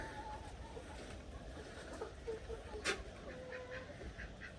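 A few farm ducks quack faintly and intermittently in the background, mixed with outdoor rustle and a brief louder clatter near the middle.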